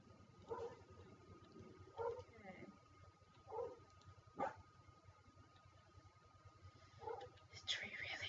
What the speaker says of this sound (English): I'm sorry for the dogs.